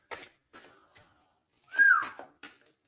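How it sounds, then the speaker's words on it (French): A person whistles a short, wavering tune in several brief bursts, the loudest swell in the middle, close and clear against near silence with no talking. "Non, c'est pas bien sifflé, pardon."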